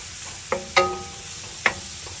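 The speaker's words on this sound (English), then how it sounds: "let it just slowly fry, so the oil of the fat will gradually come out" Fat frying slowly in oil over low, near-simmer heat in a pan, for a Chinese fried-sauce noodle dish; a quiet steady sizzle broken by three or four sharp, close pops.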